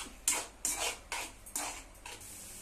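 Tomatoes with salt being stirred in a pan while cooking masala pasta, a spoon scraping and clinking against the metal in four or five close, regular strokes with no talk.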